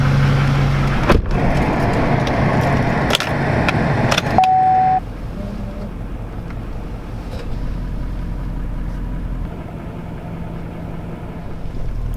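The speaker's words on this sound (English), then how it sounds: "we're in the truck, it's warming up." A diesel L5P Duramax pickup truck engine idles while warming up with a steady low rumble, a few clunks and clicks early on, then the drone settles quieter and continues evenly.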